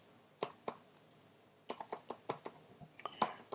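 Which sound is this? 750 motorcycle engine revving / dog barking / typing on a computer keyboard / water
typing on a computer keyboard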